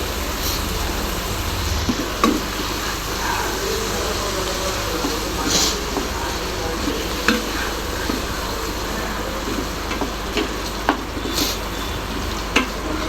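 Mushrooms cook in hot masala in a pan, a continuous close sizzle with faint stirring scrapes and a few soft knocks spread across the clip.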